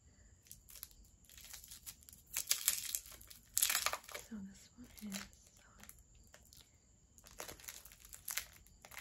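Close, quiet crinkling and rustling of sour candy wrappers comes in several bursts, with soft mouth sounds and faint whispering between them.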